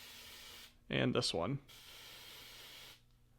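An aerosol can of smoke detector test spray hisses in a steady spray that starts, pauses and trails off, close and moderate, while someone speaks briefly over it.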